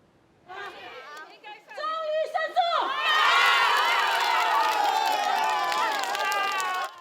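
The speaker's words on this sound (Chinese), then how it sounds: "RCA 关怀协会的成员大声欢呼" A crowd of labor-rights association members, former workers in the RCA occupational injury case, breaks into loud cheering and excited shouting after a Supreme Court verdict; voices build from scattered chatter into a sustained, close roar that fills the whole scene.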